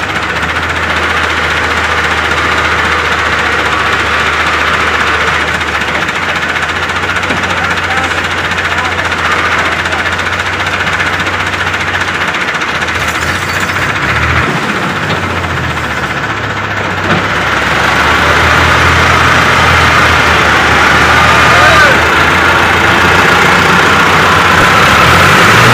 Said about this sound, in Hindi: भाई ट्रैक्टर स्टार्ट थी चुकी है